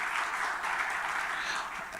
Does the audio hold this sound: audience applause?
yes